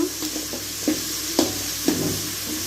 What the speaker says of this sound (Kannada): ಈರುಳ್ಳಿ ಚೆನ್ನಾಗಿ ಕೆಂಪು ಬೇಯಬೇಕು